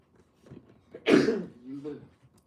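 A single sharp sneeze bursts out close to the mic after a short inhale, followed by a brief voiced trailing sound.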